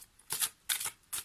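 Tarot cards drawn and handled, three short papery rustles and slides spaced across a second, close and fairly soft, with no one speaking.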